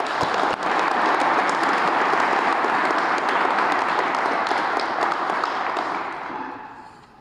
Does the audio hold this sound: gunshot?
no